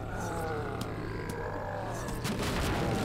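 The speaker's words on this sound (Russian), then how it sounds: "О, ребята, вот это взрывы, реально круто" Explosions in the zombie car game Earn To Die hit as sharp booms and crackling blasts over a constant roaring engine drone, with a burst of several explosions near the end.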